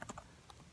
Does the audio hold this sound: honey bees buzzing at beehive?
no